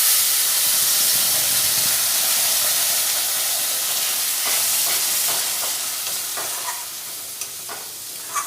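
Chilli, tomato and onion spice paste, ground with coriander and cumin powder, sizzles loudly in hot oil for a fish curry, a dense steady hiss with scattered stirring clicks toward the end.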